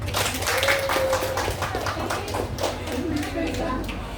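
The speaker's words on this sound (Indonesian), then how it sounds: "Ya, tepuk tangan dong." Students in a high school classroom in Samarinda clap in a quick, scattered patter, moderately loud and close, with voices talking over the claps throughout.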